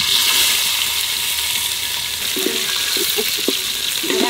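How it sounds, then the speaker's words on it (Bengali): Cashew nuts and raisins frying in a pan for Basanti pulao, a steady broadband sizzle throughout with a few soft stirring clicks toward the end, close and moderately loud, no voices. "আর কটা কাজু বাদাম একটু ভাজিয়ে নেব। সেই সাথে কটা কিশমিশও ভাজিয়ে নেব।"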